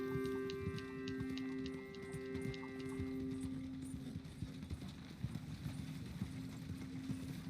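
Horses in a video game clip-clop along in a steady rhythm of hollow hoof knocks, moderately close, over a low ambient hum and tonal background drone.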